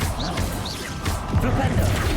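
Incendio and Confringo spells cast in Hogwarts Legacy on PS5 during a fight: dense fiery crackling rush with crashing impacts and whooshing bursts, loud and continuous throughout.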